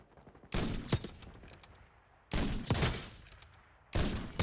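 Bursts of gunfire in the mobile shooter Warzone Mobile, three loud volleys of rapid shots separated by short quieter gaps, with faint background game noise between them.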